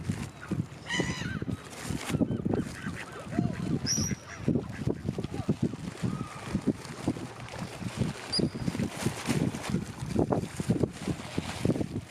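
Ducks and other birds being fed outdoors on a morning walk, with scattered honks and quacks near and far mixed with rustling, footsteps and steady outdoor noise, and voices talking intermittently.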